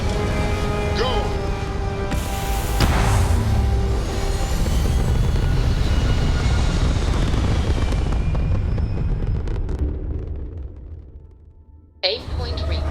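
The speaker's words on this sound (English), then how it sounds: "The hum of a grav drive makes me feel alive" A spaceship grav drive in Starfield hums and roars through takeoff, a loud broad rumble with rising whooshing layers that swells, then fades before a sharp burst near the end.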